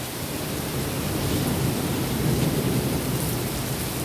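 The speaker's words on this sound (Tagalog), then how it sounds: "Pag ganito kalakas ng ulan" Heavy rain pours down in a steady dense roar with a low rumble of thunder beneath it, loud and unbroken, with no voices.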